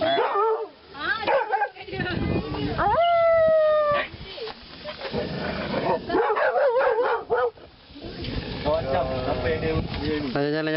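A dog barks and howls in repeated drawn-out cries at an urban organic garden in Malaysia, fairly close and loud, with people talking throughout.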